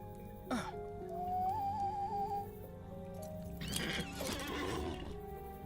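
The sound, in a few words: horse neighing and hooves in a video game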